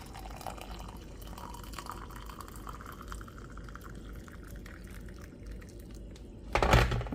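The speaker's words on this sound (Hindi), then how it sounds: "अब इसके अंदर मैं 1 ग्लास पानी, जो बॉयल्ड पानी होता है, बॉयल्ड वाटर, वो ऐड कर दूँगी।" Boiled water poured into a glass holding roasted fennel seeds, a soft, continuous trickle and splash with gentle rising tone, ending in a brief louder clatter.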